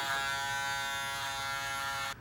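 A Wahl Super Close 5-star Shaver Shaper electric shaver buzzes steadily and close for about two seconds, finishing a haircut's hairline, then cuts off abruptly.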